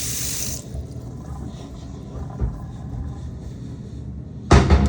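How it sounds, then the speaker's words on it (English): Water drains from a sink during a home plumbing inspection, a low steady gurgling wash with a brief splash at the start and a sharper knock near the end. "This seems to be draining fine."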